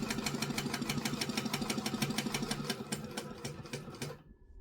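A sewing machine runs a steady line of stitches on a kangaroo sewing project, its needle pattering in a fast, even rhythm close by for about four seconds before stopping abruptly.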